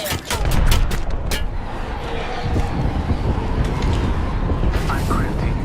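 In an Apex Legends season 13 ranked match, a quick cluster of sharp gunshots rings out near the start, then a dense rumble of battle noise carries on loud beneath game voices.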